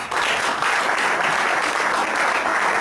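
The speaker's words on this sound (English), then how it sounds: "Let's give them a round of applause." A crowd at a city candidates forum in Livermore delivers a short, full round of applause, dense and uniform from start to finish, with no speech over it.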